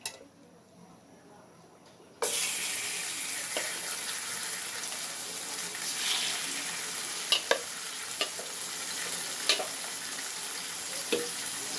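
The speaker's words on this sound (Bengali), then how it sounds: "তেলটা গরম হয়ে গেছে, এইবার আমি একে একে মাছগুলো দিয়ে দিব।" Large pieces of silver carp dropped into hot oil in a frying pan, starting with a sudden loud sizzle that holds steady, with a few sharp pops and clatters as more pieces go in.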